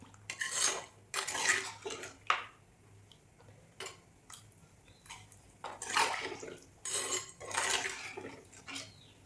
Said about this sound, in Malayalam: മിക്സ് ചെയ്ത് നോക്കാം വെള്ളം ഇനി ആവശ്യമുണ്ടെങ്കിൽ ചേർത്ത് കൊടുക്കാം